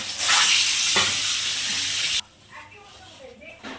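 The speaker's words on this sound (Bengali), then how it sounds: "এই যে কড়াই দেখো সর্ষের তেল দিয়ে তারপর ডিমগুলো ছাড়লাম" Eggs frying in mustard oil in a wok give a loud, bright sizzle for about two seconds, then drop to a quieter crackle.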